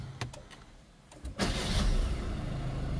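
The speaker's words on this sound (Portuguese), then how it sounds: "Motor a diesel. A inicialização aí pra você ver." A 2024 Chevrolet Astra diesel engine cranks and catches, settling into a steady, rumbling diesel idle after a few quiet clicks.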